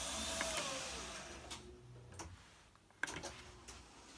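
A Studer A827 2-inch 24-track tape recorder, fitted with a new pinch roller, running in play mode, giving a quiet, steady mechanical hum with a few soft clicks and ticks from the transport.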